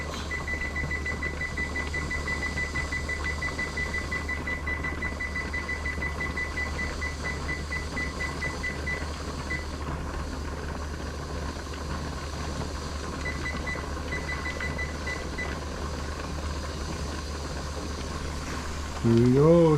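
An electronic kitchen timer, set for a coho salmon canning run, gives a repeated string of thin, evenly spaced beeps over a steady machine hum, then pauses and briefly beeps again before a louder thump ends the stretch.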